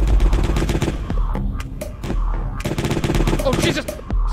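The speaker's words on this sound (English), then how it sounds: "He's got the cake gun!" Cake gun firing in the game Jazzpunk comes through as rapid, loud, close bursts of shots in quick succession, with a short lull midway, while voices talk over it.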